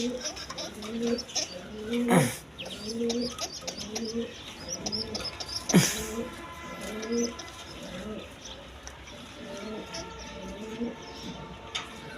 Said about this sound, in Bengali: এখানে এক পেয়ার কবুতর আছে, সিরাজি লাহোরি কবুতর দেখেন